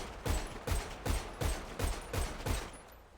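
Seven sharp pistol shots fired at a steady, rapid pace from a Glock in a GTA roleplay game, each crack loud and close with a short tail before the next.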